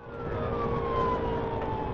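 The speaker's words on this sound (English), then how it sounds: "The sound of sirens blaring filled the air" A police siren wails steadily, its pitch sliding slowly downward, with a low rumble of traffic underneath.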